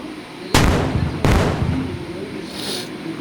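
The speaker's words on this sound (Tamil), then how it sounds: "ஆனால் வெடி மட்டும் பெருசாக வெடிக்குது" Two sharp, booming video game explosions about a second apart, loud and close, each followed by a rumbling tail, with faint background noise.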